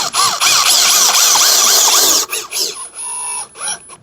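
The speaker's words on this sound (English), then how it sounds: "I might have to pre-drill this." A power drill whines loudly and up close as it pre-drills a hole while a Genie 3024 garage door opener is being installed, with bursts that start and stop, shifting pitch, and a short ratcheting sound between runs.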